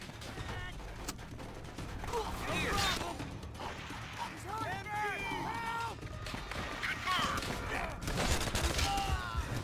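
Gunfire in Call of Duty: World at War, scattered shots and rattling bursts blended with mechanical clanks, creaks and shouting voices in a busy battlefield mix.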